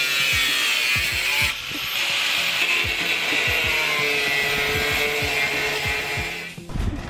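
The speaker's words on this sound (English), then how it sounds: "So we're gonna go ahead and cut off all the excess pieces." A hand saw cuts off excess pieces of welded rear fender flares on a 240SX, working in steady close back-and-forth strokes with a continuous scraping rasp that pauses briefly partway through.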